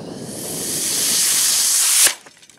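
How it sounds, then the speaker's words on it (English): Small rocket motor burning gummy bear fuel through a number 14 nozzle, a loud roaring hiss that builds for about two seconds, then cuts off abruptly into faint crackles. "Here's that same motor, but we've increased the nozzle to a number 14."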